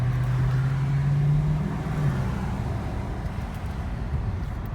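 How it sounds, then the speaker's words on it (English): A Dodge Charger Scat Pack with a 6.4L engine rumbles past in traffic, a low droning exhaust note that rises slightly then fades under steady road noise, heard from inside another car without talking. "I don't know if y'all can hear the exhaust from here,"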